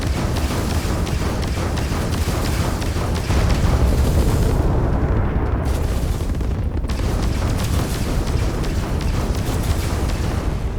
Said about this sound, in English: Those are my turrets going off.